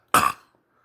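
A single short, forceful human cough, loud and close, fading quickly into silence.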